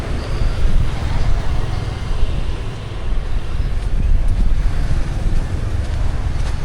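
Steady broadband rush of wind and surf on the beach at Kep, Cambodia, a continuous wash of waves with low rumble, fairly loud and close, no clear voices.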